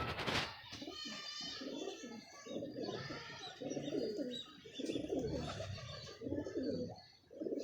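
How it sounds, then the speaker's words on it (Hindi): Pigeons, including a blue pigeon, coo in repeated soft, throaty rolling phrases close by, overlapping in a steady rhythm with a few faint chirps in between. "लो जी नीला कबूतर दोस्तों"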